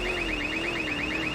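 A car alarm in Grand Theft Auto 2 blares continuously, a loud warbling electronic siren cycling rapidly up and down over a steady low hum, with nobody speaking.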